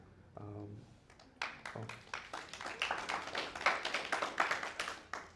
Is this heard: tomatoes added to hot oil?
no